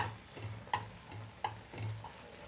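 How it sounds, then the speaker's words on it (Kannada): Jowar flour upma being stirred slowly in a pan over a low flame, with a soft, faint scraping and three or four distinct clicks of the spoon against the pan, heard close up with no voices. "ನಿಧಾನಕ್ಕೆ ಹಾಗೆ ಹಾಕಿ ಮಿಕ್ಸ್ ಮಾಡಬೇಕು"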